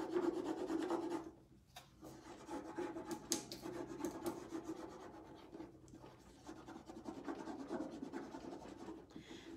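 Close, dry rubbing and scratching as the edges of a transfer are rubbed down onto a metal tin, in uneven strokes with brief pauses.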